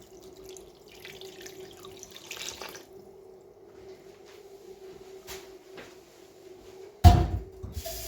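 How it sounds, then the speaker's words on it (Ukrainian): Water trickles quietly into a pot for a roe deer meat and porcini mushroom solyanka, a faint steady pour that ends with a sudden loud clatter near the end. "Добавляємо водичку"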